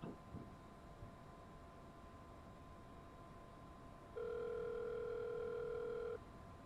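A faint telephone call tone in the X-Plane 11 flight simulator, heard in a Challenger 650 cockpit: a steady two-note tone lasting about two seconds over a low cabin hum.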